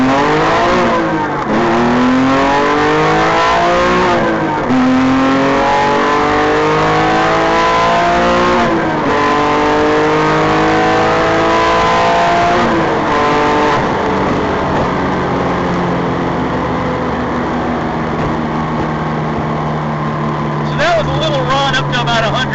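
A Porsche fitted with a hand-built R43 flat-six engine accelerates hard, loud and close, revving up through several gear changes with rising pitch sweeps, the tone dropping between shifts as speed builds.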